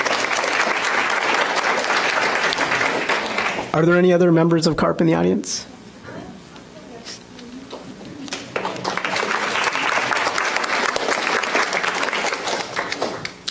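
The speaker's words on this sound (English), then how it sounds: "So yeah, a round of applause, please." Audience applause at a committee meeting breaks out in two bursts, with someone speaking into a microphone in the quiet gap between them.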